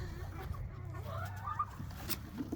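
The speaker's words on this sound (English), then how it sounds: "She was my first Brody hen." A broody hen in a backyard coop clucking softly nearby, a few low murmured clucks over faint rustling and background hum.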